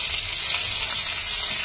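Onions frying in hot oil with garlic, green chili, dried red chilies and curry leaves, a close, continuous hissing sizzle that stays steady throughout the short stretch.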